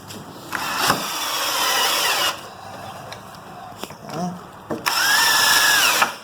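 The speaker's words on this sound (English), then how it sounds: "Now you see there's really no problem driving in those kind of deck screws" A Ryobi 18V cordless power drill drives deck screws in several bursts, its motor whirring loudly up close with short pauses and clicks between runs, and a voice briefly audible between bursts.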